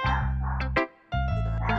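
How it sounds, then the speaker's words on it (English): A dog barks loudly and close up, one sustained yappy bark, a short pause, then another strained bark with a whimpering edge. "What is my dog barking at?"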